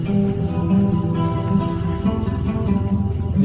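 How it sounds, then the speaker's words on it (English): Crickets chirp in rural fields after rain, a steady, dense pulsing trill carrying on without pause over a soft outdoor background, fairly close and with no voices. "Cricket's finally back after the rain."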